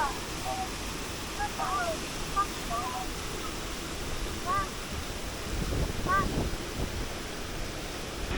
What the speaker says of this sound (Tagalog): sobrang lakas talaga ng bagsak ng tubig sa falls